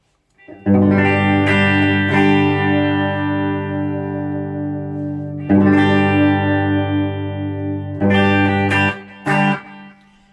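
Distorted electric guitar chords through a Klon-style overdrive and Hiwatt amplifier ring out loud and sustained, struck a few times with long decays and short pauses between, no talking.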